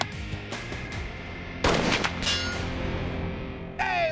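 Rifle shots fired at a target 200 yards away in a science experiment, a sharp crack near the start, a louder report at mid-clip and a later ricochet-like whine, recorded outdoors without speech.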